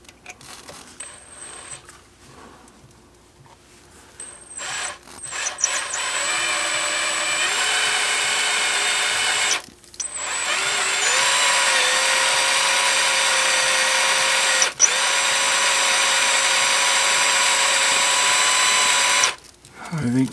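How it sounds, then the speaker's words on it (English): Power drill boring into a Hellcat transmission case, a high whining motor that starts after some handling noise and runs in long steady bursts, briefly stopping and restarting, loud and close. "let's try to start drilling this."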